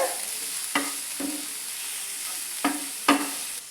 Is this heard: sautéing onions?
yes